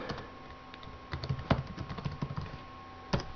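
Fingers tap a computer keyboard, typing a name in a quick, irregular run of close, light key clicks with a few louder strikes standing out, heard alone without talk.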